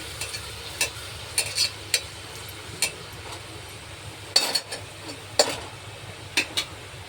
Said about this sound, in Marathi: बारीक चिरलेले टमाटर, हे चांगलं आपल्याला स्लो गॅसवरती लाल करून घ्यायचं आहे